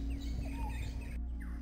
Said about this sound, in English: I hear birds. How pleasant.